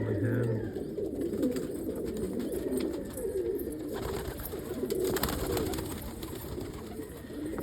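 Almond pigeons, an almond cock and hen pairing up in a home aviary, give low, soft cooing under steady broadband background noise, with no one speaking.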